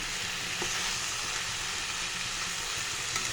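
Malabar spinach greens fry in oil in a pan for a vegetarian dish with potato, giving a steady, close crackling sizzle throughout with faint stirring and no talk.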